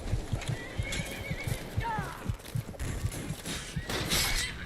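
Horse neighing in Skyrim, a loud whinny rising over rapid clip-clop hoofbeats and combat noise, with a voice talking at moments.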